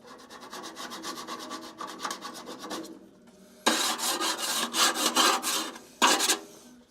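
A tool scrapes and rubs against the inside of a Skywalker coffee roaster drum during cleaning, giving rapid rasping strokes, first softer and steady, then after a short pause louder, harsher bursts close up.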